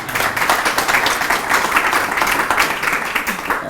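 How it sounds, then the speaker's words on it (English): Round of applause from the audience at a memorial lecture in a Hellenic cultural center, loud and full with a slightly uneven pulse, crowd clapping close and filling the room, faint voices beneath. "First of all, a round of applause for Thomas Papathomas."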